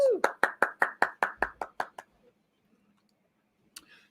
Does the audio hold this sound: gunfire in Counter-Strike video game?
no